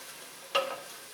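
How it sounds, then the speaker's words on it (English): Sautéing vegetables for cream of mushroom soup are stirred once in a pot, a single short scrape over a steady background sizzle, close and moderately loud. "So let's stir this up."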